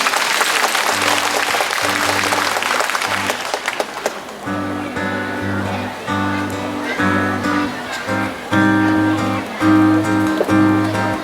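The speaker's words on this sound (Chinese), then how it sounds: "掌声鼓励一下。" Concert audience at a large Hakka song sing-along applauding for about four seconds, then the clapping fades as a sung performance with instruments begins.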